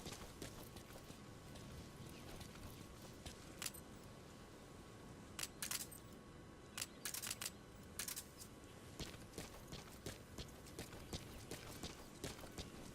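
D-Horse's hooves pound a steady galloping clip-clop in Metal Gear Solid 5, faint and continuous, with a few sharp clicks scattered over the rhythm.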